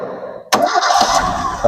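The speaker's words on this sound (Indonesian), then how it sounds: "tak matikan nanti tak hidupkan lagi tanpa gas." A car engine cranks and catches abruptly, then settles into a steady running hum, close by.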